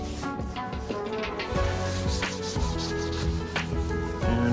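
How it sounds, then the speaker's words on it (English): A 240SX car body panel is scuffed before priming, with continuous abrasive rubbing strokes close by in a workshop that has a constant mechanical hum underneath. "already almost done scuffing and prepping"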